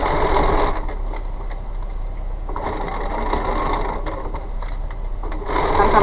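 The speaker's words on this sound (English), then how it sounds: "we're going to sew this last piece together" A sewing machine stitches a last piece of fabric with a fast, continuous whirring hum, briefly easing and resuming in a few bursts, close and fairly loud.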